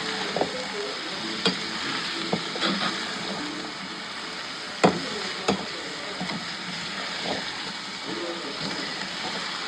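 Onions, tomatoes and green chillies sautéing in a pan, with a steady loud sizzle throughout and a few sharp clicks of a spoon stirring against the pan.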